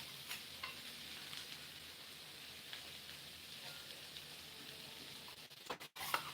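Small mola fish dropped into a pan of oil and stirred as they fry, giving a soft, steady sizzle with faint scraping, followed by a few sharp clatters at the end.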